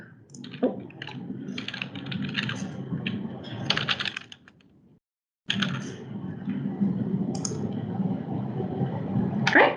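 Typing on a computer keyboard, fast clusters of close key clicks running for about five seconds, a brief silence, then more steady typing to the end, with no speech over it.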